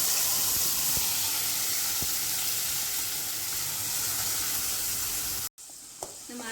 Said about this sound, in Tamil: எண்ணெய் சுடாயிடுச்சு நம்ம அரைச்சி வச்சா பேஸ்ட்டு சேர்த்துக்கலாம்